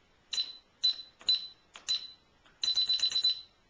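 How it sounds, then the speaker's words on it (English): An alarm system keypad gives short, sharp electronic beeps as a security code is entered: four separate presses spaced about half a second apart, then a rapid string of confirmation beeps, clear and close in a quiet room. "To disarm the alarm, you just press your 4-digit code."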